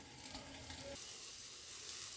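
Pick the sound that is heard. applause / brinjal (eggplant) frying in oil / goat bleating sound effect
brinjal (eggplant) frying in oil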